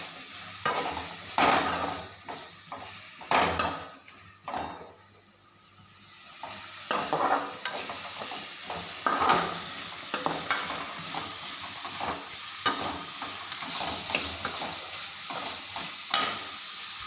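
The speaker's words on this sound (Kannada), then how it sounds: "ಟೊಮೊಟೊ ಹಾಕ್ಕೊಂಡು ಸ್ವಲ್ಪ ಫ್ರೈ ಆಯಿತು." Tomato and onion fry in a pan while a spoon stirs them, close sizzling under repeated scraping and metallic clanks that come in irregular bursts, easing briefly midway, with no talking.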